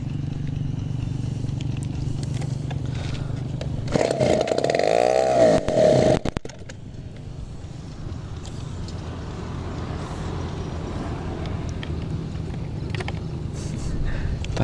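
A TU 26 gasoline engine on an RC trainer plane with a 186 cm wingspan runs steadily throughout, loud and close, with a brief louder surge near the start while voices talk over the drone.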